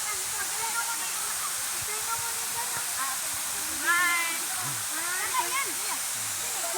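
Kawasan Waterfalls in Bohol, a steady broad roar of falling water filling the scene from start to finish, with people talking and calling out over it.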